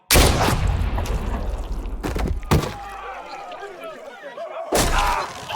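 Loud gunshots in The Walking Dead Telltale video game: a big opening blast, two sharp reports in quick succession a couple of seconds later, and another heavy bang near the end, with rumbling noise between.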